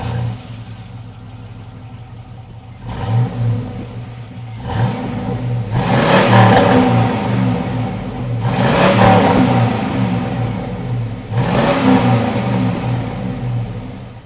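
Motorhome engine with its stock exhaust starting and then revving in three or four rising pulls over a low idling rumble, loud and close, with no voices.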